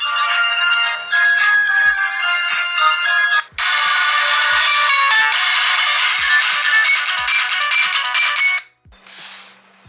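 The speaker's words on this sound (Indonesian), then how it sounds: "bisa juga nih buat dengerin ada dering, yang suaranya emang kenceng tapi sember ya" A cheap budget mobile phone plays a loud, tinny polyphonic ringtone, a bright melodic jingle repeating with a short break partway, ending in a brief burst of noise.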